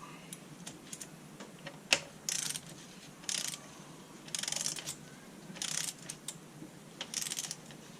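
A torque wrench tightening cylinder head bolts on a 2014 Dodge Charger Pursuit engine, giving quiet bursts of rapid ratcheting clicks in short pulls with brief pauses between, close by and without speech.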